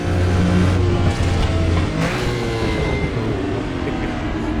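A BMW M1 Procar engine in the RaceRoom racing game at Interlagos revs hard and loud, with a clear gear shift partway through, then carries on at high revs with a rising whine.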